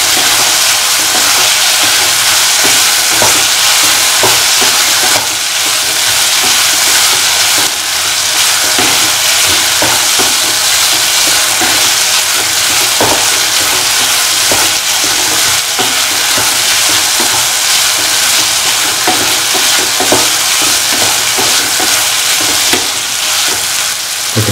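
Potatoes sauté in hot oil for a potato pickle, giving a steady, loud frying sizzle with scattered crackles and the occasional scrape of stirring, continuous throughout with no voices.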